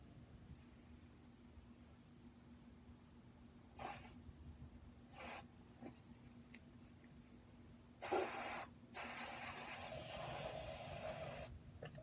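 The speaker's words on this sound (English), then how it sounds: "I'm just gonna use the Dove Original Spray." Short hissing bursts from a nearly empty Dove Original deodorant aerosol can, followed by a longer continuous spray that sputters and tails off, fairly quiet and close.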